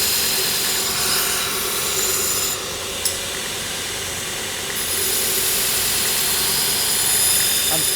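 A knife-making grinder's belt or wheel runs steadily at a raised speed, giving a loud, continuous mechanical whine and hum across the whole span. A short dip near the middle may be the speed being adjusted.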